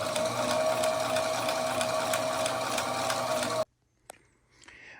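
A sewing machine stitches sections of dinghy chaps together for a new dinghy, running loud and steady with a rapid mechanical chatter for most of the stretch, then stopping abruptly into near silence with a couple of faint clicks and handling sounds.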